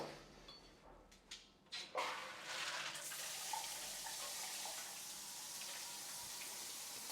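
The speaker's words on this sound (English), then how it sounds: "So now we'll run some water through it and test for leaks." After a few clunks and taps, water gushes through an 8-inch square rain shower head and keeps running steadily with a hissing spray, fairly close.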